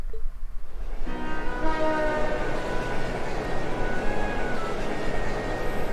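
Train from the game Trails of Cold Steel rolling along the Cruisian main line, a loud continuous rumble with a sustained horn-like tone, steady and close throughout with no talk.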